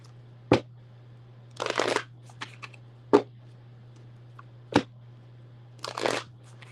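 A deck of tarot cards is quickly shuffled, with sharp snapping riffles and short papery ruffling bursts spaced apart, close and clear over a low steady hum.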